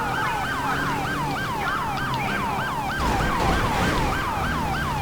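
A fast yelping police siren in the video game LSPDFR whoops continuously in rapid repeating sweeps, loud and close, over a low engine rumble.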